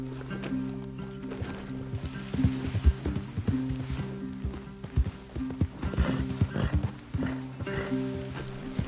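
Horses in a PS4 video game clip-clop steadily with hooves, mixed with a whinny and a low ongoing tonal score, moderately loud and continuous with no talking.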